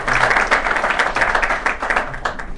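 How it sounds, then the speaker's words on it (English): A live audience at a London talk on the future of data centres, held at The Shard in 2015, gives a warm round of applause: dense, steady clapping from many hands, close and sustained throughout with no voices over it. "so I think we should really give a warm round of applause to Lauren for really making this happen."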